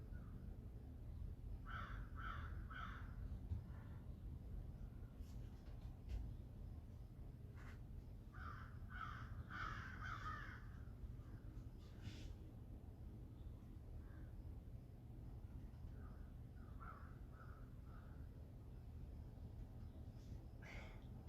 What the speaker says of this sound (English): There's some crows outside my window having a fit about something.